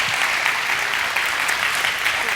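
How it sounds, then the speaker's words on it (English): Audience applause fills a church service, a steady, dense wash of clapping sustained and close throughout, with no speech over it. "give Caleb and Carly a huge round of applause."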